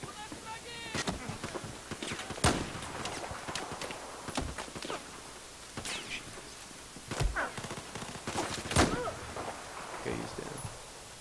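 Gunfire in the Battlefield 4 campaign at a dam, heard as sharp broadband cracks and bursts scattered through eleven seconds, some loud and near, others softer, mixed with clattering footsteps and movement.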